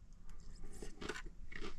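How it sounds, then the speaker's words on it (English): Close crunching and chewing of chips eaten with a Santa Fe chicken salad, with several crisp bites in quick succession, soft and near, and no talking. "I like the crunch of the chips,"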